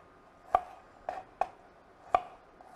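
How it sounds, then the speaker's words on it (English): A knife roughly chops onion on a cutting board in a home kitchen, giving four sharp, close knocks at an uneven pace with quiet gaps between them and no voices. "We're going to get some more onion. We're going to roughly chop this"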